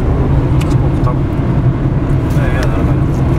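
Car cruising at about 70 on a snowy winter highway near Kstovo among stalled trucks, with a steady, loud road roar and hum from inside the cabin and brief faint voices.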